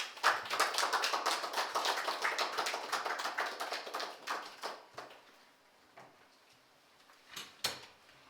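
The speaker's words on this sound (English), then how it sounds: "Let's welcome Professor Paul Alagidede with a round of applause." An audience claps to welcome Professor Paul Alagidede at a policy forum. The dense, steady applause fills the first few seconds, then thins into scattered claps with a few final ones near the end.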